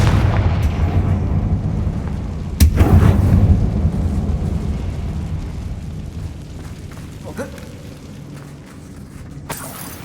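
A Confringo blasting spell goes off in a Harry Potter video game: a sharp boom at about 2.5 seconds over a steady low rumble of game ambience, with a smaller crack near the end.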